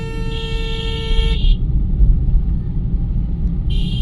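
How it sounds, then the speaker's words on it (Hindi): A car horn sounds a long honk to get a slower vehicle ahead to move aside for overtaking, then sounds again briefly, close and loud over steady road and engine rumble. "सबसे पहले हॉर्न बजा ले"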